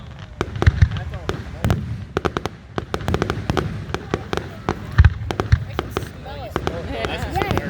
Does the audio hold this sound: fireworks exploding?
yes